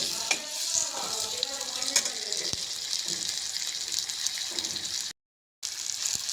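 Onions fry in a pan until brown with a steady hissing sizzle and occasional spoon clinks and stirring scrapes, close by, broken by a brief moment of silence near the end.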